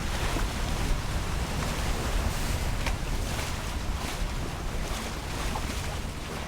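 Sailboat motoring through the current of Delaware Bay on both engines, heard as a continuous broadband rush of engine, water and wind noise on the microphone, steady and fairly loud, with no talking.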